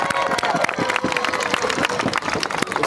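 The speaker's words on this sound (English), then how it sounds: "Let's give LaShawn a hand clap of" An audience applauds and cheers during a key to the city presentation at a civic gathering, with dense rapid clapping from a crowd filling the room and loud steady energy throughout, with voices mixed in.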